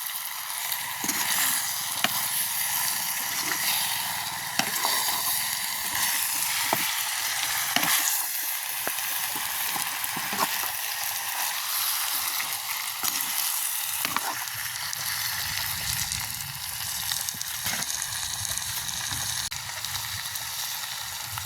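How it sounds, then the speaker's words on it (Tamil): Food fries in a pan in a village kitchen, a dense, continuous hissing sizzle held close, with soft scraping from stirring breaking through at intervals throughout. "இப்படியே நல்ல வடிவாக கிண்டுவோம்"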